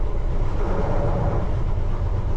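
A London Underground Piccadilly Line train runs along the track, a steady loud rumble with dense low-frequency rolling noise heard from on board, without speech.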